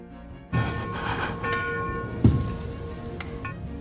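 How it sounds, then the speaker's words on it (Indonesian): A bell sounds in a film scene in a haunted house, with several clear metallic strikes after a sudden onset, ringing over a faint rain-like background hiss. "Setelah segel sudah lengkap, bel pun berbunyi, itu tanda bahwa Ben akan segera menyerang"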